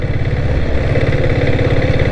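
Diesel Bullet Red Deluxe 7.5HP motorcycle engine running steadily, a loud, close, low chugging thump with an even rapid rhythm and metallic clatter on top, heard alone without talk.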